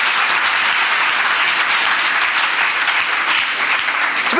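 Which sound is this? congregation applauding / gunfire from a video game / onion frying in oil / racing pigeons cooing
congregation applauding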